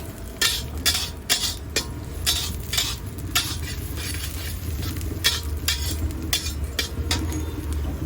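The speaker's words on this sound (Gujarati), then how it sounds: "ધીમે તાપેથી એને સાંતળી લેવાનું છે આપણે." Onions sauté slowly over a low flame, a spoon stirring and scraping the pan in repeated close strokes above a continuous gentle sizzle.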